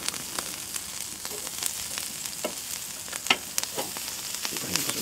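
Pesto-marinated shrimp sizzle and crackle on a hot grill, a steady close hiss broken by sharp pops and the occasional scrape as pieces are turned.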